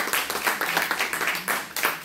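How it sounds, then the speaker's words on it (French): Members at an association's annual general meeting clap for themselves, a brief burst of close, fairly sparse hand claps with distinct individual strikes in an uneven rhythm. "Vous pouvez vous applaudir"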